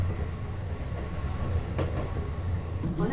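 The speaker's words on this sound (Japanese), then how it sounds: "準急電車はめっちゃ古い電車で来ることが多いので、あ、これがそうですね" An old Keihan semi-express train with roof-mounted distributed air-conditioning units arrives at a station, giving a steady close rumble of rolling wheels and a brief clatter near the end.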